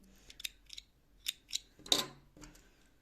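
Small, worn scissors snip the thread on beaded needle lace. Several sharp, crisp cuts come in an irregular series, close and fairly quiet, with a louder snip near the end.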